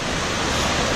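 Ocean surf at Myrtle Beach, a loud, close, continuous wash of breaking waves forming a thick roaring hiss for a brief moment, without speech.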